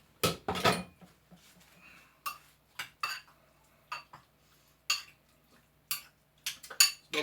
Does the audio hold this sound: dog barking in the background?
no